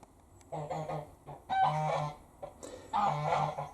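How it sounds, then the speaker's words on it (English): Several loud nasal honks and clucking calls from geese in bursts, fairly close, with short pauses between them. "that's my friend's geese you can hear there"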